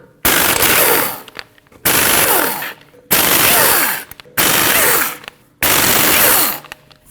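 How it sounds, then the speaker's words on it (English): Lug nuts come off the front wheel of a 2013-2019 Ford Escape in five loud, close rattling bursts of an impact wrench, each lasting about a second, separated by short pauses. "you need to remove your 5 3/4-inch lug nuts"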